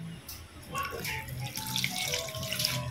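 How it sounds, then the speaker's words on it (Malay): Half a tin of plain water pours into a blender jug while making steamed caramel bread pudding, a close, continuous splashing gush that rises and stays full for a few seconds. "Kemudian bolehlah kita masukkan setengah tin air kosong."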